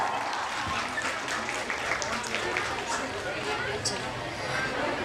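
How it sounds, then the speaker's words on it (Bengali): Sustained audience applause at a school's annual prize distribution and 75th-year closing ceremony, a steady dense wash of clapping from a large crowd lasting throughout, with faint voices underneath. "শুভস্মিতার জন্য একটা জোরে হাততালি।"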